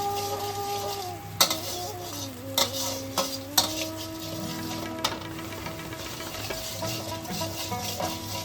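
Masala paste with turmeric fries in a pan as a utensil stirs it, a steady sizzle broken by several scraping clinks against the metal, with a faint background hum throughout.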